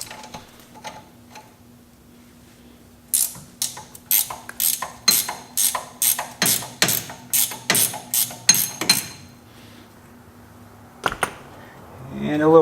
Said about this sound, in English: we're going to grab an 18 millimeter ratcheting wrench, and we're going to go ahead and loosen the bolt here on the bottom of the ball joint